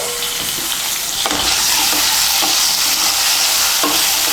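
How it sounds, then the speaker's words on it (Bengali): Sliced potato and radish sizzle and fry in hot oil while being stirred in a pan for a Bengali radish greens dish with bori, a steady loud crackle broken by several sharp spoon scrapes and knocks, with no talking. "আলু আর মূলোটাকে তেলের সঙ্গে মিশিয়ে নিয়ে ভেজে নেব।"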